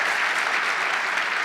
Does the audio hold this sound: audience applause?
yes